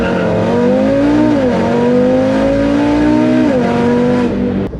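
Audi RS3 with a Unitronic tune driving on back roads in automatic drive mode, its engine note loud and steady with brief dips as it shifts between gears, no talking over it.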